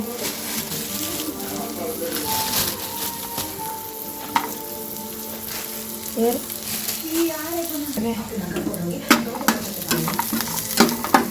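Chicken curry with fresh coriander sizzles steadily in a pan, with scattered stirring clinks and scrapes and some faint background voices and tonal sounds underneath.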